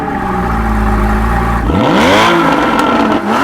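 A Carmine Red Porsche Cayman 981 GTS is started up close by. A short starter whir is followed by the engine catching with a sharp rising revving flare, which then settles into a strong idle.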